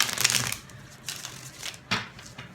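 Tarot cards being shuffled up close: a dense riffling burst at the start, then two shorter flicks of cards, with quiet handling between them.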